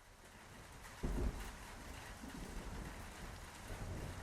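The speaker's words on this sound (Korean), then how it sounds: "누군가 물을 퍼담아 쏟는 것처럼 유리창 위로 빗물이 흘러내리고 있었다." Heavy rain streams down a window pane during a downpour in Seoul, a faint, steady hiss of water with one soft thump early on. It is used as an audiobook sound effect, and no voices are heard.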